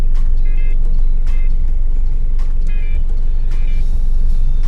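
Heavy road traffic in Cebu rumbles steadily and loudly, with vehicles passing close by, a few intermittent high beeping tones, and scattered horn-like chirps cutting through the constant low engine drone.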